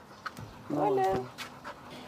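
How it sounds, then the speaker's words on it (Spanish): A loose, calm dog pants close by in a short, quiet burst with a faint whimpering tone, while soft background noises come and go around it. "Entonces, sí, como lo ve, que el perro está suelto."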